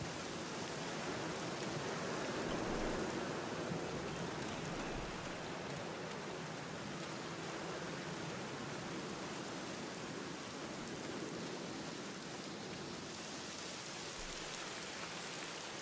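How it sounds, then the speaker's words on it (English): Steady rain falls in The Black Mirror video game, a constant soft hiss of drops on surfaces that stays even and quiet throughout with no voices. "he has his hood up in the rain."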